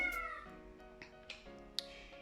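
A cat meows insistently, a few drawn-out plaintive cries close by, with faint clicks and taps between them in a quiet room.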